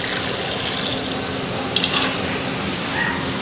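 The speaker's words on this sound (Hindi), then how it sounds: "और इसमें हम 1 कप पानी डालेंगे" Steady rushing water pours continuously into a pressure cooker holding raw mango, a close, even splashing stream.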